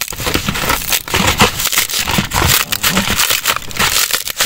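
A large dried luffa gourd is cracked open and its brittle skin breaks apart, giving close, loud, continuous crunching and crackling with irregular snaps.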